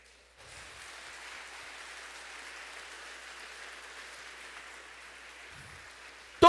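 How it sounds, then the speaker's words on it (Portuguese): A church congregation applauds the Lord during a sermon, a steady, even wash of clapping heard from a distance, with a sharp bump right at the end. "Dá um aplauso ao Senhor aí."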